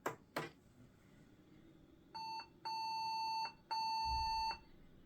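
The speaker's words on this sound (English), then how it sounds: "there's one short beep, one long beep, and then one short beep" An old Compaq computer beeps its startup error code on power-up: a short tone, a longer sustained tone, then another long tone, clear and fairly close after two faint clicks.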